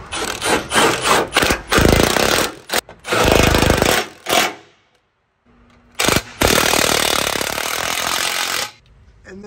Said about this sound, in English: Next, we're going to snug down the two 10mm on the exhaust bracket.